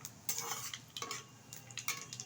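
Whole spices such as black cardamom and radhuni are fried in a pan for a country chicken curry, a soft sizzle under quick close stirring scrapes, with no talking.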